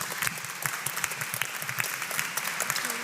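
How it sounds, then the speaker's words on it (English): Applause from a conference audience inside the Pauliner Church, a steady, even wash of many hands clapping at moderate distance, with no voices over it. "A round of applause, please, for our three speakers"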